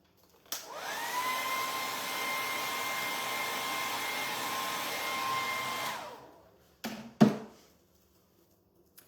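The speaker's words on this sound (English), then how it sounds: "Just quickly hit that with the hairdryer." A hair dryer blows on freshly stencilled paint, a steady close whoosh for about five seconds before it shuts off, followed by a few handling knocks.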